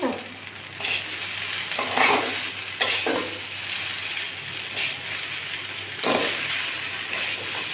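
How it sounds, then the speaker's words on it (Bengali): Spices being stirred into Maggi noodles in a pan, a steady sizzle with repeated scraping strokes of a spoon against the metal, close and fairly loud, no talking. "এখন মশলা ভালো করে মিশিয়ে নেবো সব কিছুর সঙ্গে"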